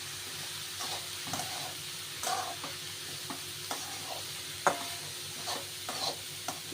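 Finely chopped cabbage gets stirred in a pan, with a spoon scraping and clinking in irregular bursts over a quiet continuous sizzle, up close and with no voices.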